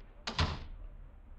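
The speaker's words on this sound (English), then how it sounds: "Close the door." A door swings shut indoors with a single solid thunk, a brief sharp knock followed by a short low thud, then quiet room tone.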